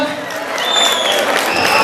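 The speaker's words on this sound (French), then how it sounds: "On applaudit très fort la candidate numéro 9." A burst of crowd applause for a contestant at the Miss BE 2014 beauty pageant in Togo, building over a couple of seconds, dense clapping from many hands with some voices mixed in.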